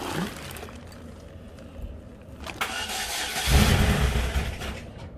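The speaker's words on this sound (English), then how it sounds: "I'm just going to start the car." A GMC HHR that needs troubleshooting is started: a short crank, then the engine catches and roars up to a loud, rough run, close by with no talk.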